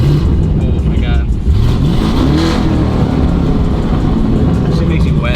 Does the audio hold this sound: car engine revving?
yes